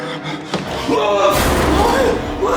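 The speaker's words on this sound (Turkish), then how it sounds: "Kamil kapıyı kapattı ve resmen kapana sıkıştım." A door slams hard in a horror video game, one loud thud followed by a dense, noisy game ambience.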